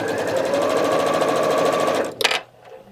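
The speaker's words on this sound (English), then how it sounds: "I'm going to go ahead and start sewing my star points" Sewing machine stitching star points on a quilt block, a loud steady close motor whir with rapid needle rhythm that stops abruptly near the end, followed by a short clatter and quiet.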